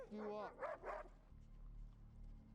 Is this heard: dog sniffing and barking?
yes